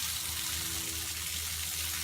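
Steady rushing water from a garden hose watering plants in a hot greenhouse, a continuous close hiss with no talking.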